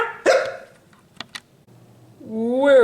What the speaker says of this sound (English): We're sorry you have the hiccups.